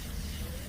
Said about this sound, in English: So go ahead and just spray this on right here.